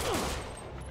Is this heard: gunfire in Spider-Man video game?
yes